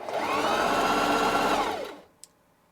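A Singer Heavy Duty sewing machine sews a waffle stitch, feeding fabric forward and in reverse: a loud, close, steady whirring run of stitching that winds down and stops, followed by a single small click.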